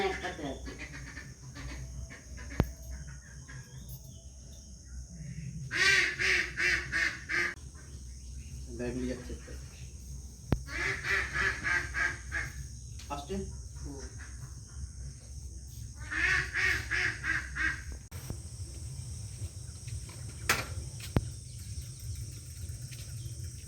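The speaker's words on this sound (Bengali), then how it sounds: "তো যে হাঁসগুলো ছিল তার মধ্যে একটা আছে" Domestic ducks at a village house give repeated bursts of rapid quacking, three or four clustered volleys spaced a few seconds apart, against a quiet room tone with faint voices.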